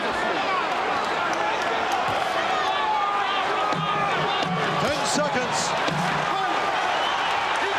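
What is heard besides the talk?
boxing crowd cheering on their feet at convention hall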